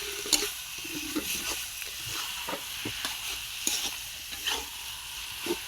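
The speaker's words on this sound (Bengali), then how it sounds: "এখন ভালো করে মাংসটা কষবো।" Desi chicken meat stir-fried in a pan over a village cooking fire, with steady frying sizzle and a hiss, plus repeated scraping stirs at a fairly regular pace, close and moderately loud, with no talking.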